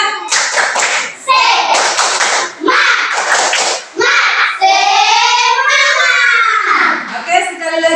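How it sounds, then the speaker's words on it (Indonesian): A group of children performs a rhythmic classroom clapping chant, short bursts of sharp unison claps alternating with loud sung and shouted voices in a patterned cadence. "Ice breaking di sini kita buat tepuk semangat."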